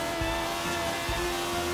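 A BMW i8 in the racing game Forza Horizon 3 holds a loud, sustained high-revving engine whine, with a couple of brief low thumps beneath the steady roar.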